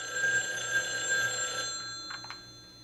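A telephone bell rings with a steady, fairly faint tone, then fades out toward the end, followed by a couple of brief soft knocks.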